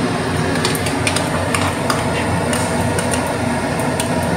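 Spice paste of red chilli, coriander powder and cumin powder going into a hot pan for a duck egg curry, with steady close sizzling and frequent metallic spoon scrapes and clinks as it is stirred.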